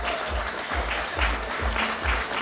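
Applause at a family homecoming for a returning Yazidi soldier, with a crowd clapping steadily and densely throughout and voices faint underneath.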